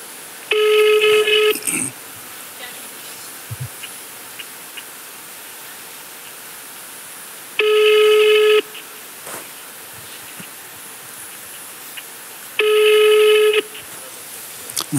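A telephone call rings out unanswered, with three separate electronic ring bursts spaced several seconds apart over a faint steady hiss.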